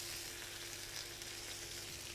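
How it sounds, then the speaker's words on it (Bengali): Peri peri chicken pieces fry in a pan, giving a continuous even sizzle that stays steady and fairly close throughout, with no voices. "এটা কিন্তু আরও ভাজা লাগবে, ভাজা প্রায় 30-35 মিনিট ভাজা লাগে"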